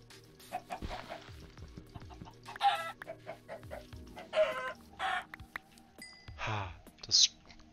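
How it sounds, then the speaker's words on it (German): Chickens in modded Minecraft clucking as they are killed: a string of short, sharp clucks and squawks scattered across the clip, with one louder high squawk near the end and faint whispered talk underneath. "Das Sterben der Hühner."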